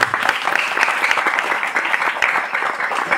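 Lively audience applause at an outdoor poetry gathering of comic verse, a continuous dense clatter of many hands clapping loudly and evenly throughout.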